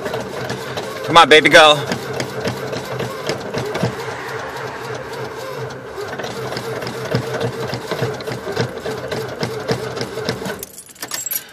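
A cold 1986 Dodge engine grinds through a short burst of cranking, then settles into a steady, rough-running rumble. Someone talks close by, urging it to start.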